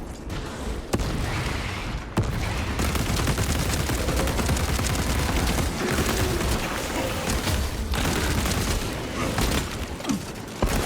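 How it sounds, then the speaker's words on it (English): Dense gunfire crackles through a video game firefight, rapid bursts and booms from a frag grenade explosion mixed in, loud and continuous with brief gaps. "Throwing frag grenade."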